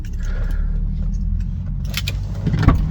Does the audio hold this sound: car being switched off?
yes